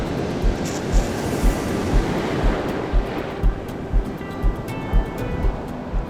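Ocean surf breaks on a sandy Jersey Shore beach in Ocean County, New Jersey, a continuous loud wash with regular rhythmic thumps of waves, close by, with no voices.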